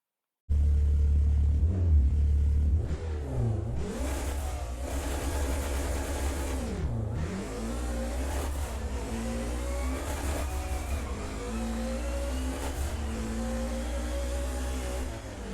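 A BMW M3 E30 race car in ride-spec trim, about 300 horsepower and just over 1,000 kilograms, in a racing game, engine revving and rising through gears with a loud, steady rasping drone that dips and climbs repeatedly.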